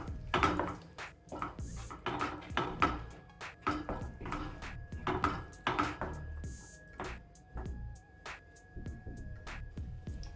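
A spoon scrapes and knocks against a pot as chole gravy is stirred and mixed, a quiet, close, irregular series of taps, clinks and scrapes with short pauses between strokes.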